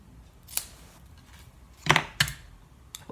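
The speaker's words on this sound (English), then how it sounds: "bring in my snips, just cut this on an angle" Sharp craft snips cut satin ribbon at an angle, a few crisp snipping clicks close by, with two quick cuts near the middle and a lighter one at the end over a quiet room.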